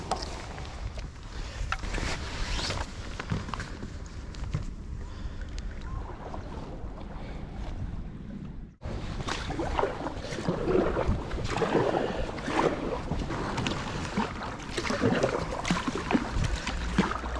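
Continuous watery splashing and wind rush from paddling an Itiwit X500 inflatable touring kayak on a long day trip, close and steady, with a brief dropout midway before the paddling noise resumes; no talking.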